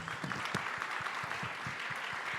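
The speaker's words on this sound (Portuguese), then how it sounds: "pedir uma salva de palmas para o pessoal que está aqui no palco com a gente" Steady audience applause fills a conference hall at a gaming-market and Web3 games event, a dense even wash of many hands clapping throughout with no talk over it.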